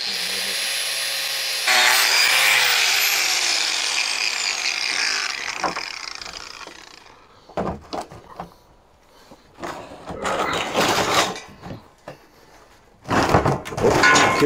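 A power grinder works weld seams on a metal Diacro table, first a sustained loud whine for several seconds, then short repeated bursts of grinding separated by brief gaps, heard up close.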